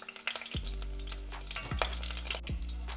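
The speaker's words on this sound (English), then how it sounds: "The oil is now hot, so I'm gonna add the onion and the garlic clove." Onion and garlic sizzle and crackle steadily in hot oil, with a few sharp stirring knocks and a low hum underneath.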